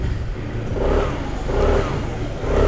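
An Aprilia SR GT 200 scooter engine starts and settles into a steady mid-pitched running note, close and continuous for the whole stretch, with faint background voices.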